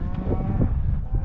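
Cattle moo during a spring turnout on a ranch, one close, drawn-out low bellow lasting just over a second, heard alone.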